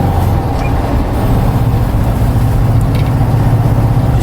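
A 1977 VW Bay Window Westfalia camper van driving along back roads, heard from inside the cabin as a loud, steady low engine drone and road rumble with no one talking.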